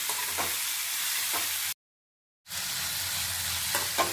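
Cashews, green chilies, onions and tomato frying in a pan give off a continuous loud sizzle with a few soft stirring clicks, cut by a brief moment of total silence before the frying resumes.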